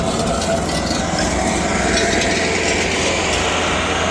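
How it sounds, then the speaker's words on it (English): A soil conditioner turns over an overgrown gravel driveway with a loud, continuous engine roar and grinding, churning texture close by and no pauses. "See the soils conditioner turning it over."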